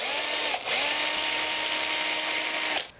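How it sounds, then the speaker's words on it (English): A power drill boring a hook-eye hole into a wooden crawfish crankbait lure made from a wooden ball, a steady close whine that briefly dips once, then runs on before stopping. "I've drilled the hole for the hook eye"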